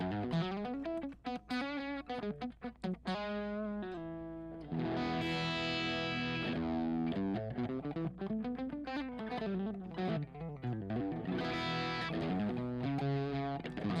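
Electric guitar played through a distortion pedal with level and distortion set at noon and tone near two o'clock, giving sustained, saturated chords and riffs that start choppy and then ring out loud and continuously with no talking.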